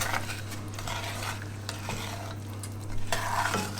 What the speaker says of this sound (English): A big wooden spoon to mix all that together.